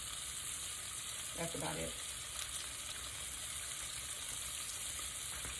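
Ground beef sizzles steadily in a pan with a constant low hiss throughout, while a brief utensil clink sounds and a person speaks a few quiet words.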